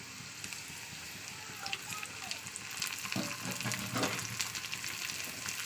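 Steady oily sizzling of onion and green chili frying in a hot pan, growing a little louder and busier partway through.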